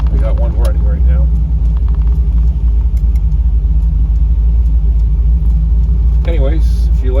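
A 1981 Trans Am with a swapped NASCAR LS3 416 V8 cruising in daytime, a loud, deep, steady engine and road rumble throughout, with someone briefly talking over it at the start and near the end.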